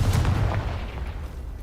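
A Confringo fire spell bursts in Hogwarts Legacy: one loud, deep boom at the start that rumbles and fades over the next second or so, close and alone.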